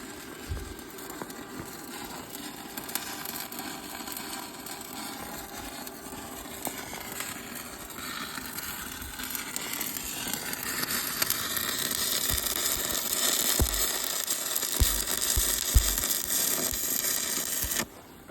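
An indoor tractor engine runs warmed up with its hydraulics making a noise, a steady broadband mechanical drone that grows slightly louder and busier toward the end before cutting off, with no talking.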